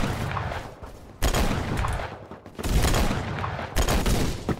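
Gunfire in the video game Phantom Forces, likely a revolver: loud, sharp, closely spaced shots in several bursts with booming tails.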